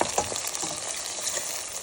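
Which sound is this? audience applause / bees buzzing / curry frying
curry frying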